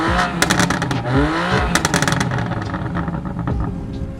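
A BMW F30 sedan with single-side exhaust drives off, its engine revving and rising in pitch through a couple of accelerations, loud and close with clattering and rattling over the steady engine drone.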